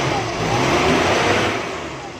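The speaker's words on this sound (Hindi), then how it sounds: "वायर फिट करने के बाद हम इसको स्टार्ट करेंगे" A Suzuki Bolan van's engine runs steadily after its engine bay has been washed, a close, loud, even mid-pitched hum that swells slightly and then eases.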